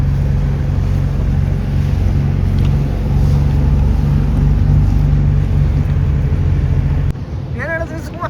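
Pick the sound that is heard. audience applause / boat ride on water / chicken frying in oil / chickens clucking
boat ride on water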